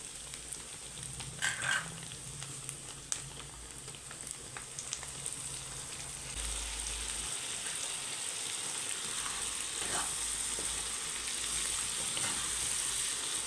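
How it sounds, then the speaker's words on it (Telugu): Curry leaves, coriander and onion paste fry in oil with a soft, steady sizzle, joined by a few faint knocks and clatters from the pan. "కరివేపాకు, కొంచెం కొత్తిమీర, ఉల్లిపాయ వేద్దాం. ఉల్లిపాయ పేస్ట్ చేశాను."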